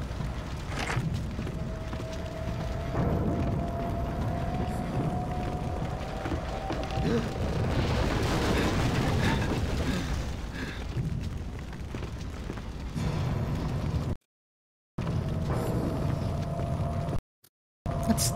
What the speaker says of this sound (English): So this must be the boiler explosion fire